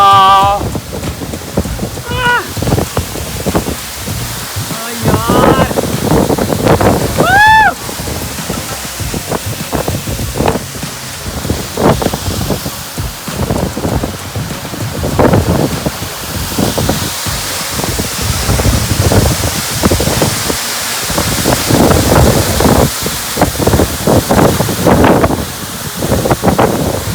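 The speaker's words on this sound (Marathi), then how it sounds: "वाऱ्याचा वेग एवढा प्रचंड आहे, त्या वाऱ्याच्या वेगाने हे पडणारं जे पाणी आहे ना" Powerful wind drives spray from a waterfall along with rain, a loud, constant roaring rush with buffeting gusts hitting the microphone, and voices briefly audible early on.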